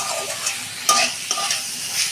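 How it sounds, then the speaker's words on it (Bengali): Taro stolons fry in a hot pan with a steady, bright sizzle while a utensil stirs them, adding a couple of soft scrapes and taps. "2 মিনিট আমি একটু ভেজে নেবো লতিটা"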